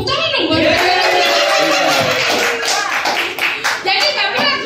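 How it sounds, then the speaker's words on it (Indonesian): An audience bursts into loud, close clapping with scattered laughter and chuckles mixed in, holding strong for several seconds. "Tepuk tangan dong buat"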